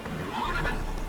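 Roach, a horse in The Witcher 3 video game, gives a short whinny that rises and falls over about a second, heard fairly close over a steady game background with no talk.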